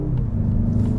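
A 2021 Mazda 3 Turbo sedan with all-wheel drive powering through a turn, its engine giving a steady, loud low rumble heard from inside the cabin.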